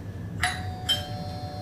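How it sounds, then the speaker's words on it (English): A two-tone electronic doorbell chimes, ding then dong, clear and close over a low background hum. "That doorbell means our friend are here for the chips and sauce."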